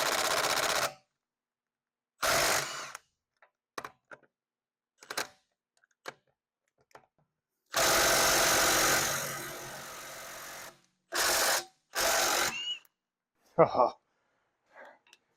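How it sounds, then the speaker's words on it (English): A 1/2 inch impact wrench with a 17 mm socket zips lug bolts off the rear wheel of a Jetta TDI, in several separate loud bursts of rattling hammering, one long and others short, with someone talking between them. "got my 1/2 inch impact, 17 mil socket. Start pulling all the lug bolts out"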